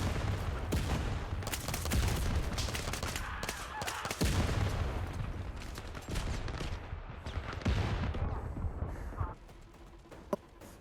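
Rapid pistol fire from twin handguns in the VR shooter Zero Caliber, dense overlapping shots running loud and continuous through most of the stretch, with a sharp final crack near the end.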